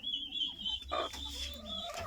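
A bantam Cochin hen with newly hatched chicks clucks softly in short bursts, with a high chirping bird call running above it; close and fairly quiet.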